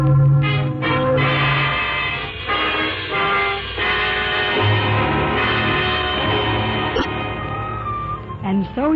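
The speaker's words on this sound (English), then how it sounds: "Those are wedding bells, darling" Wedding bells peal on a Sunday morning in a 1940s radio drama, a dense continuous ringing with overlapping tones that fills the whole stretch, with a voice briefly heard near the end.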